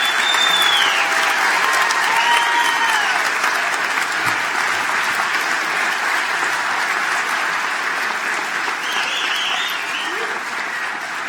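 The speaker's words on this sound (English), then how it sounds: "Let's give them one final big round of applause." A big audience at the University of Toledo College of Engineering Fall 2015 undergraduate commencement gives a full, sustained ovation. Loud, dense clapping fills the hall, with a few whistles and cheers rising above it.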